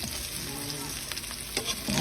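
Milkfish and pork belly sautéing in a pan for paksiw, a steady close sizzle with a few brief clinks and stirring scrapes near the end.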